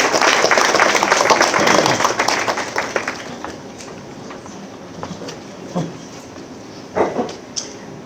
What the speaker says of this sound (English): let's show a round of applause and appreciation for Ms.